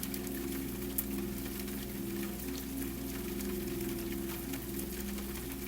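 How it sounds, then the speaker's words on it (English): Light, steady rain falls as a fine mist in cool outdoor air, a soft continuous hiss that stays even and unbroken throughout, with a low steady hum underneath. "And there's rain, not heavy, not dramatic"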